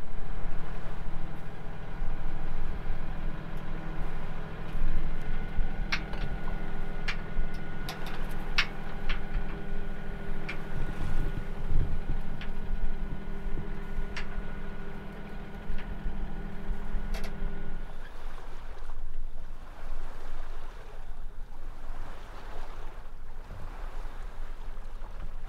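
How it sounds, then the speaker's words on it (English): A sailboat's inboard engine runs at raised revs, a steady low drone with a hum over it that holds for about 18 seconds and then drops away, leaving wind and water noise. "as you can probably hear, the engine is on a little bit higher revs now."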